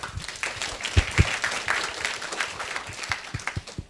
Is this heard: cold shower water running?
no